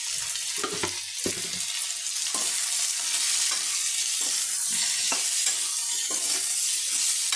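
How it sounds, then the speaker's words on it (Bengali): Gime shak greens seasoned with turmeric, chilli powder and salt fry in a pan over a low flame. A steady close sizzle runs throughout, broken by repeated scraping stirs. "আমি গ্যাসটা লো ফিলেমে করে এটাকে ঢেকে ঢেকে ভেজে নেবো"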